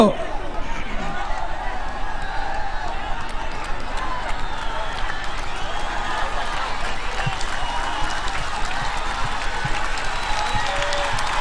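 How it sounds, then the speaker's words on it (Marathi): A large outdoor crowd at a Dahi Handi human pyramid festival keeps up loud, continuous applause and cheering mixed with chatter, a dense wash of clapping that runs steadily throughout. "आणि जोरदार टाळ्या वाजवल्या, जवानांनी थर लावलेले आहेत"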